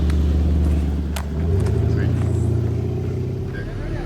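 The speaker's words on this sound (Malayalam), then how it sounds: "കുത്തനെയുള്ള കയറ്റത്തിൽ കൂടെ ഒക്കെ ഫോർ വീൽ ഇട്ട് ഞങ്ങൾ കയറിക്കൊണ്ടിരിക്കുകയാണ്" A Range Rover in four-wheel drive grinding up a steep off-road forest slope, a steady low engine drone with a rising note, close and constant, with someone talking over it.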